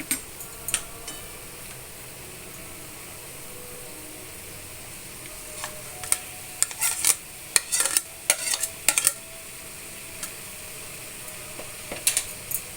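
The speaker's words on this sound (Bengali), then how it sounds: "একটু জিরে গুঁড়ো, দিয়ে নাড়িয়ে নেব।" Spoon or spatula scraping through food in a pan after ground cumin and coriander are added, with scattered clicks and taps clustered in the middle and a low sizzle underneath, no one talking.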